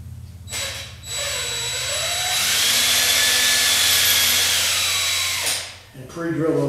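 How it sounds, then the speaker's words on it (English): A power drill spins a long flexible bit, bent to pre-drill pocket holes while building a wooden Franklin ladder library chair; a loud, steady whirring whine holds for about four seconds, with brief revving before and after. "pre-drill those holes."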